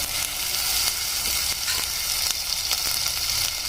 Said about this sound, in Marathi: हा मसाला आपल्याला छान प्रकारे भाजून घ्यायचा आहे